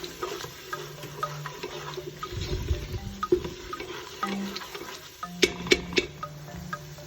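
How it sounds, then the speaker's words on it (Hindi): A spoon scrapes and stirs garlic, ginger, ground coriander and garam masala in a pan for rajma, giving soft scraping and faint sizzling with a few sharper clinks against the metal. "तो अब मैं इसे अच्छे से मिक्स कर लेती हूँ।"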